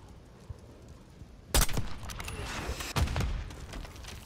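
Bursts of gunfire in Call of Duty Black Ops 6 combat, with a loud volley cracking in partway through and a second sharp burst a moment later over a low battlefield rumble.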